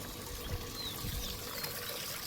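Water pours and trickles steadily into a farm field for irrigation, a continuous soft rushing flow with no voices.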